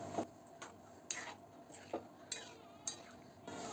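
Cooked mutton being stirred into roasted masala in a cooking pot for mutton rassa, with about seven sharp spoon scrapes and knocks against the pot at an irregular pace, close and fairly quiet, with no talk.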